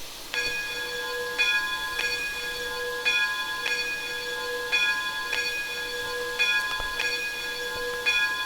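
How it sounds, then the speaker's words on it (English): Locomotive bell of an 1889 Baldwin 4-4-0 steam engine in Train Simulator Classic rings steadily, about once a second, in clear metallic clangs over a soft hiss, loud and alone throughout. "Really decent sounding bell."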